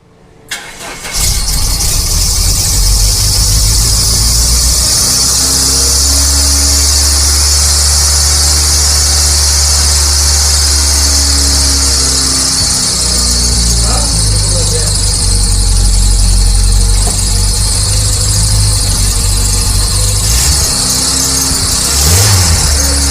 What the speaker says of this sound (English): We corrected it and the car began to run better.